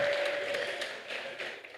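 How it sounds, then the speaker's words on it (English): A conference audience gives a short round of applause, fairly close and steady clapping that fades slightly over under two seconds, with no speech. "So a round of applause once again."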